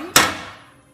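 A metal baking sheet gives a single sharp clank when moved during salmon cooking, and the ringing tail decays over most of a second.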